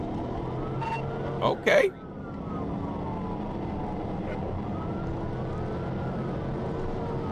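Police car siren wailing during a chase of a Cadillac CTS, rising and falling tones under engine and road noise, with a brief burst of voices and a sharp clatter early on.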